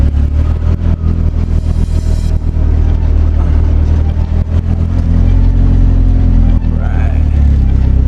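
A turbocharged car engine revs and hums steadily up close, its droning note swelling and easing throughout, with someone talking over it.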